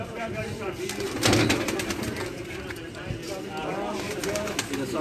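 Racing pigeons back from a flight coo and call around the loft, the calls mixed into a busy, continuous outdoor background with a faint engine hum.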